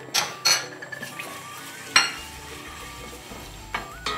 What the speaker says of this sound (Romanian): îl călesc puțin.